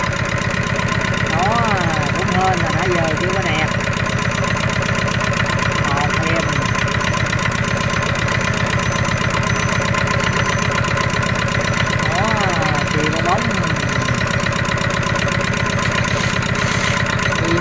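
A Zanma NS 50 motorcycle engine runs at a steady, loud idle after a kick start, with a rapid rhythmic putter and a faint knock, while someone talks over it.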